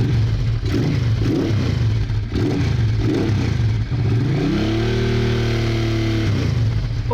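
A Honda Bros Hawk GT motorcycle engine runs steadily at idle with a pulsing, lumpy beat, then blips upward into a brief sustained rev around the middle before dropping back, loud and close with no talking.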